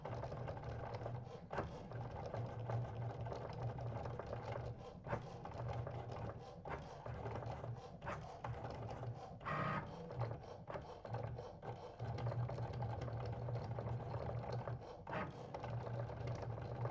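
A Cricut Maker cutting machine slices iron-on vinyl for a pencil bag, giving a steady mechanical whirring hum with rapid ticking carriage movements and brief pauses, running continuously and close by with no talking.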